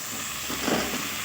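Moringa drumsticks hit a pan of onions and curry leaves frying in oil, giving a steady, close, hissing sizzle that swells briefly midway.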